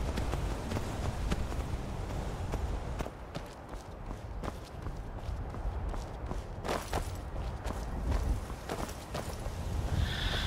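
Horse hooves clip-clop on the ground in the fantasy role-playing game Skyrim, a steady rhythmic series of footfalls, fairly close and continuous over a low ambient background.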